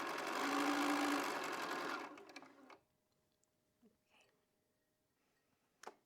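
A sewing machine stitches quilt pieces with a loud, fast, continuous whirring hum for about two seconds, then stops, followed by quiet handling clicks and a faint thump near the end.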